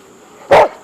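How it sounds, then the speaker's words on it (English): A single sharp bark from a pet dog outdoors on a walk, close and loud, following a stretch of quiet. "Wrangler, he always barks at this one."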